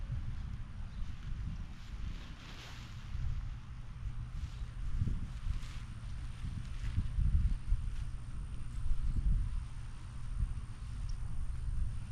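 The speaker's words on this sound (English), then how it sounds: "as you can hear, y'all, it's already kind of windy." Wind buffets the microphone in low, uneven rumbling gusts, rising and falling continuously throughout with a faint hiss above.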